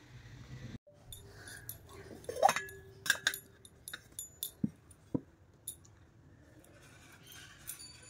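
A glass clinks and knocks at home while someone drinks water and takes medicine, scattered sharp, bright taps and small clatters at irregular intervals, near and fairly quiet, without speech.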